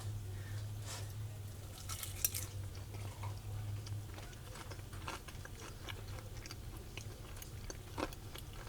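Crispy fried fish fritters being bitten and chewed close up, giving irregular small crunches and clicks over a low steady hum, with no talking.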